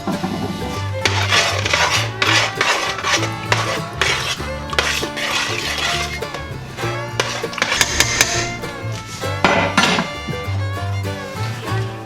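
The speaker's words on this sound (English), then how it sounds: "Stir that in." A spoon stirs black pepper into venison chili in a pot, giving repeated clinks and scrapes against the metal in an uneven, steady rhythm, close and fairly loud, with a background hum running underneath.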